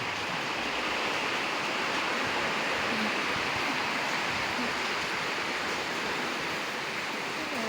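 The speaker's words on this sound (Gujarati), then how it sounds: "જોરદાર આવતો છે વરસાદ" Heavy rain pours down in a steady, dense roar that stays constant from start to finish, loud and close, with no voices over it.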